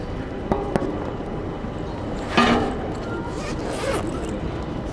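A satchel zipper being pulled open, a brief rasping zip standing out near the middle over a quiet room, with a couple of small clicks just before it.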